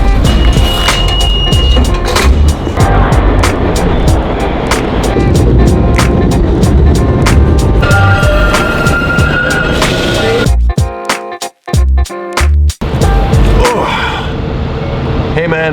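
Broken Boosted electric skateboard rolling over pavement, a loud continuous rumble and rattle with rhythmic clacks over seams, ending in a few abrupt dropouts.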